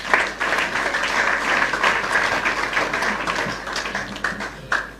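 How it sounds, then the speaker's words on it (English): Audience applause at a youth gathering in Kintampo, Ghana: a crowd claps continuously for several seconds with uneven, scattered hand claps and a few louder individual claps standing out near the end. "Clap for yourself again."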